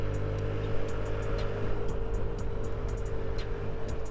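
A 2008 Honda Zoomer 50 scooter being ridden at around 50 km/h: a steady, droning small engine note with faint clicks over it, even in level, and no talk.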